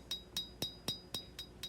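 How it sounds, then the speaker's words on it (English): Seven sharp metallic strikes of a cross peen hammer on the back end of a knife handle, spreading it into a flare, landing in an even, quick rhythm, close and fairly quiet with a bright ringing ping each time. "Now I'm going to take a cross peen hammer"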